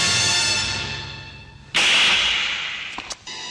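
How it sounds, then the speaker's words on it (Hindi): A single sharp, ringing slap lands in the middle, loud and close, after a drawn-out dramatic musical tone, with a short echoing tail and a small second hit near the end. "थप्पड़ की गूंज सुनी तुमने"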